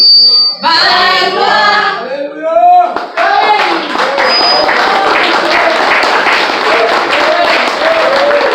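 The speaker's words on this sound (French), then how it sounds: "Applaudis plus fort, applaudis plus fort, applaudis plus fort." Loud, continuous clapping from a crowd, with a whistle or high electronic tone and voices cutting in at the start.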